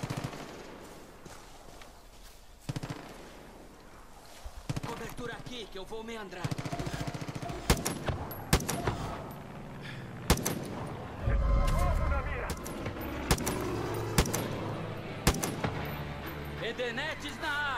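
Sharp bursts of gunfire in the video game Far Cry 5 crack out repeatedly, some in quick volleys, while someone talks over the action.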